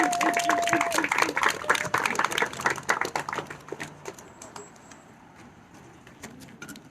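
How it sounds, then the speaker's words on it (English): Crowd applause outdoors at a Black Lives Matter march and rally, dense clapping that fades steadily toward silence, with brief talk underneath. "Give a round of applause to him"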